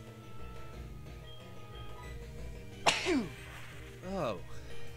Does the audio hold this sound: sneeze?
yes